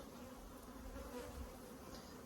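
Honey bees buzz steadily around a hive colony during split-making, a continuous, dense drone that is faint and even throughout with no voices.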